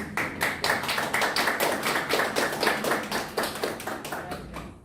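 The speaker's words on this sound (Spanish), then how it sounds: "Un aplauso para la Yatichiri Gladys." Steady applause from a crowd, continuous clapping that keeps an even pace throughout without any voices.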